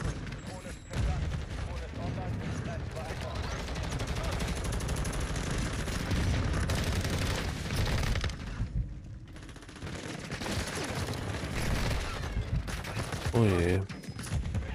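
Sustained automatic gunfire in a video game, dense bursts of rapid shots rattling almost without pause over many seconds, loud and close, with a few brief gaps and a player speaking briefly over it.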